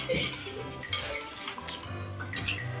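A spoon stirs sugar into carrot halwa in a pan, scraping and clinking against the metal in quick, irregular strokes at close range, fairly quiet, with no talking.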